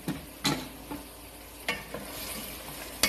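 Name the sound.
mixing chicken with corn flour, flour and eggs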